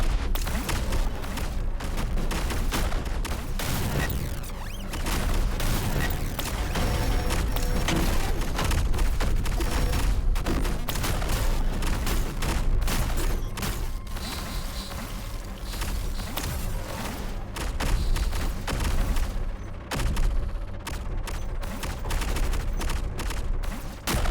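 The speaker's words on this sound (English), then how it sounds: "They launched so many missiles!" A dense, unbroken barrage of launches and explosions from many missiles in the game Punk roars for over twenty seconds, loud and continuous with crackling blasts throughout.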